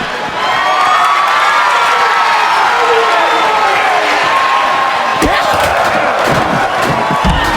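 A large arena crowd in the WWE 2K24 wrestling video game roars and cheers continuously, loud and sustained, with sharper bursts of noise and impacts toward the end.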